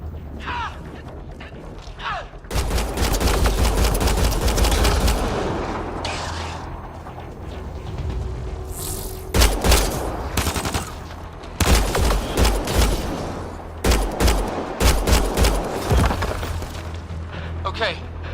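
Gunfire in the sci-fi shooter game Mass Effect: Andromeda: sustained rapid bursts of automatic fire with heavy low thumps, starting after a quiet moment and returning in several loud volleys, mixed with shouted voices.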